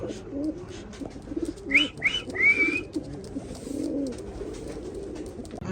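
A male Oman Teddy pigeon coos repeatedly in low, rolling pulses, joined by a few brief higher chirps from other birds, close by amid a busy loft.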